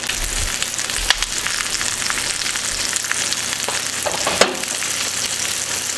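A mahi mahi fillet pan frying gives a continuous close sizzle with spitting crackles, and two sharper clinks of a utensil stand out above it.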